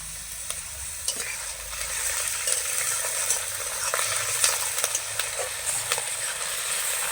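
Onion paste and green chili paste fry in a pan, a continuous close sizzle with scattered crackles and stirring taps running evenly throughout, and no one speaking.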